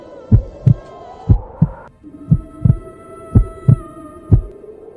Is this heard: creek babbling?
no